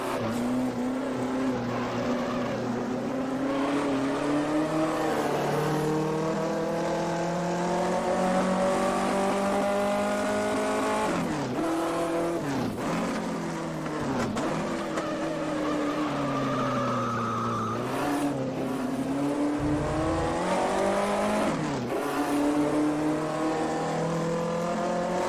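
1958 Formula One race cars at Silverstone in a racing video game drone past continuously, engines rising and falling in pitch through gear changes, with several loud close passes and brief tyre squeal.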